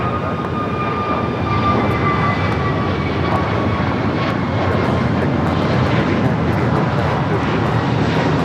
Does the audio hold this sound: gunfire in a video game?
no